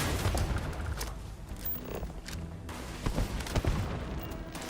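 Grenade explosions and scattered gunfire from a ship battle in the video game Starfield, played on a PS5 Pro, rumble as a dense, continuous barrage with sharper bangs near the end.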